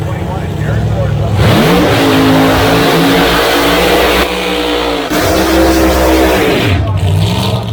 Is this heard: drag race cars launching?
yes